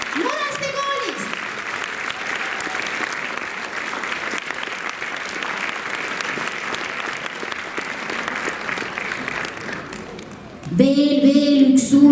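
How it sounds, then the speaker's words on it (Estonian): An audience at a dance club performance breaks into sustained, dense applause for a young dancer, with clapping continuing throughout and swelling louder near the end, where a voice comes in over it. "teeme suure aplausi meie tublile vaprale Laureline Muraste koolist"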